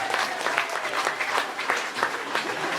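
Steady audience applause, many hands clapping at once in a dense, continuous patter with slight swells, close and fairly loud.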